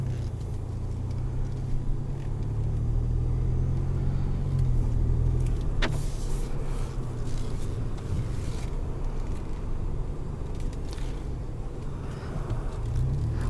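A 2021 Ford Expedition Max King Ranch SUV cruises along with a steady low road and engine rumble, heard from inside the cabin, plus a faint tick partway through and soft wind noise throughout.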